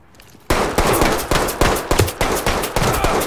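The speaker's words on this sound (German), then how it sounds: "Wird geschossen." Rapid bursts of gunfire in the tactical shooter Ready or Not, a loud close volley of repeated shots starting abruptly after a quiet moment and continuing in steady clustered cracks.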